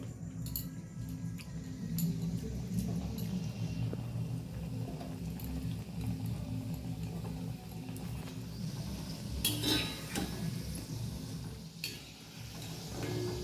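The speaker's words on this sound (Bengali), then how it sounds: "এবার ভাজার জন্য আমি দিয়ে দিচ্ছি" Langcha sweets made from flour and sugar fry in hot oil over a low flame, giving a soft steady sizzle with occasional clinks and scrapes of a utensil stirring in the pan.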